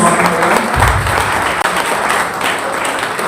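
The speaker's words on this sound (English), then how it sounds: "A big round of applause." Conference hall audience at a maritime university breaks into loud, dense applause, a steady wash of clapping that holds throughout.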